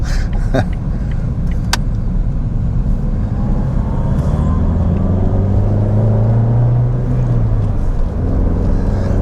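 A small 1.6-litre manual-transmission car engine droning steadily while driving, loud and close from inside the cabin, with a rising hum partway through and a few small clicks early on.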